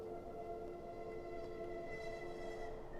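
A train approaching, heard as a steady, faint drone with sustained whistle-like tones held over a constant rumble.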